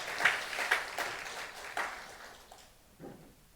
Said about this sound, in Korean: 여러분 박수 한번 하겠습니다